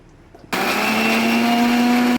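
A mixer grinder grinds masala of ginger and cumin, its loud, steady motor whine starting abruptly, running for under two seconds, then cutting off.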